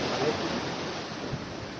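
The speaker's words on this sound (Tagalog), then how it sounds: "Lakas ang alon, madilim." Strong ocean waves surge at night under a moonlit sky during a fishing outing, a steady broadband wash of surf with some wind noise, close and continuous throughout.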